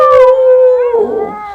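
A person imitates a wolf howl with a long, loud, close wavering tone that slides downward and trails off, alone without other voices.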